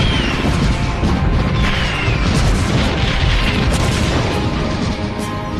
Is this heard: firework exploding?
yes